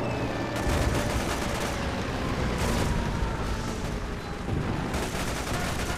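Dense, continuous gunfire and explosions fill a battle in the Toy Soldiers video game, with loud bursts and booms overlapping throughout and no break in the noise.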